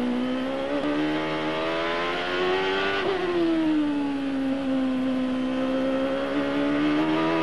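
Onboard a Champ Car race car driven by Justin Wilson, the engine holds a loud, steady high-pitched drone, its pitch dipping and rising through shifts and corners with no talk over it.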